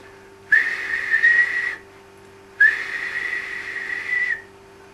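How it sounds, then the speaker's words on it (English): A steam engine whistle sounds twice, two clear sustained high blasts each lasting over a second with a short gap between, loud and alone without talk. "He whistled in horror"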